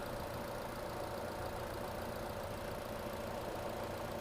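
A car engine idles in a steady, continuous drone with a low rumble, heard up close and alone throughout, with no talking.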